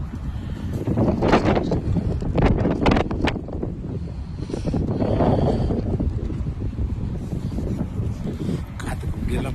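Heavy wind near a railway station buffets the microphone with continuous low rumbling gusts, swelling and easing over several seconds.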